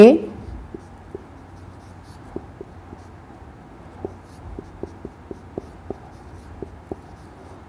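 Chalk or marker writing on a classroom board during a seventh-grade Urdu lesson: a run of light, sharp taps and strokes, sparse at first and then quicker and more regular, heard close with no talk.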